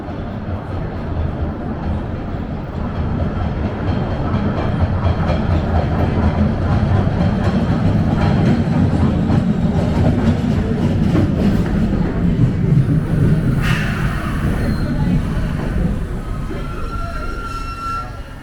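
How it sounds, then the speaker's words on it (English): Older Boston Green Line subway train pulling into an underground station, a loud sustained rumble of wheels and motors that builds and holds, with brief high wheel squeals near the end. "Here's the train."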